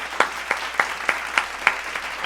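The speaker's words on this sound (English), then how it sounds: "Edited a round of applause." Six evenly spaced hand claps, close and crisp, a small slow clap standing in for applause.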